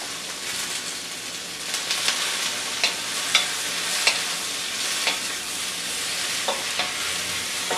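Snap peas stir-frying in a pan with shirataki noodles, a steady close sizzle with crackling pops scattered throughout and no voices.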